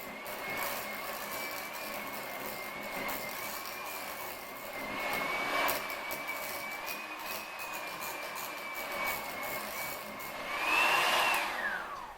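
An electric hand mixer whips a thick cream cheese frosting with a steady, continuous motor whine that holds at a constant pitch for the whole stretch, rising briefly in intensity near the end.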